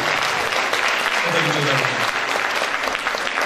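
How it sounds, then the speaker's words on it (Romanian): Loud, dense audience applause at a song contest gala, sustained clapping throughout with a brief low voice rising under it in the middle before it cuts off abruptly. "Aplauze, vă rog, frumos"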